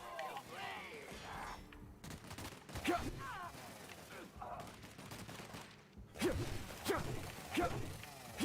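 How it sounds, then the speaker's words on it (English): Faint bursts of gunfire from The Outer Worlds video game crack in scattered shots and short volleys, with whooshing effects between them. "Who is still shooting at me?"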